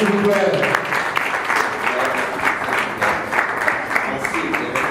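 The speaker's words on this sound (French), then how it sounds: "Est-ce qu'on va applaudir, s'il vous plaît?" Audience applauding at an official foundation launch event, a sustained, moderately loud clatter of many hands with a voice briefly audible at the start.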